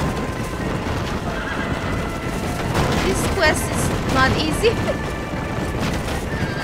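Horses neighing and whinnying amid clip-clopping hooves during a chase with Gatling gunfire in the video game Red Dead Redemption, several loud whinnies over a dense, noisy battle backdrop, with a voice speaking.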